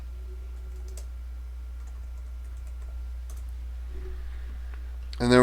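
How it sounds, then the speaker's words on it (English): Sparse keystrokes on a computer keyboard, a few soft clicks scattered over a steady low electrical hum, ending in a short louder burst of activity. "I'm going to type in just a quick event of what it was"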